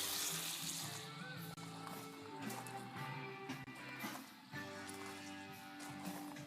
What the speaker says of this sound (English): I'm gonna fry it up right now, I think